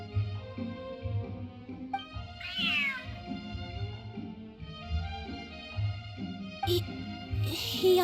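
A cat in the video game Genshin Impact meows repeatedly, several drawn-out, close meows rising and falling over a low steady background.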